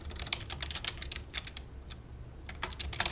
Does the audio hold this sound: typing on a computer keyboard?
yes